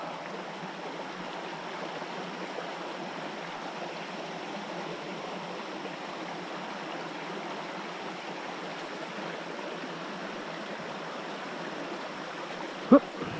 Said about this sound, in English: Another waterfall over there.